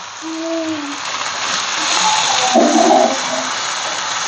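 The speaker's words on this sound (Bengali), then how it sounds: "সমস্ত মশলা গরম জল দিয়ে দেবে" Hot water is poured onto spices in a hot pan while cooking chicken curry. A low hum opens, then a loud hissing gush swells midway and settles back to a steady bubbling sizzle.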